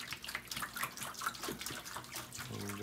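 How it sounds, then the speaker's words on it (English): Homemade fixer solution poured from a container onto a Van Dyke brown print in a tray, a continuous splashing liquid pour that runs steadily and close with no voices. "I'm just gonna pour this on there, and you'll see the print start to darken up."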